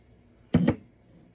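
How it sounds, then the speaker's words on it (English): Perfume sprayed onto a scent strip: two quick back-to-back spritzes of the atomizer, close and crisp, alone in a quiet room. "So I'm gonna spray it on a strip."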